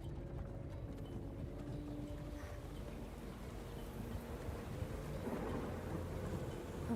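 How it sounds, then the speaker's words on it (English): Steady rain falling as a background sound effect, a constant low wash with a faint rumble like distant thunder underneath. "You start to hear the rain fall."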